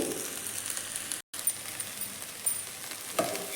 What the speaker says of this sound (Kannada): ನೋಡಿ ಒಂದೆರಡು ನಿಮಿಷ ಫ್ರೈ ಆಗಲಿ